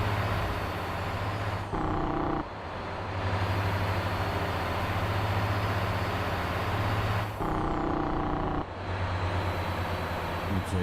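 A truck engine with its Jake brake engaged in a cozy driving video game: a loud, steady low engine drone with a brief shift in tone around two seconds and again near eight seconds, with no talking.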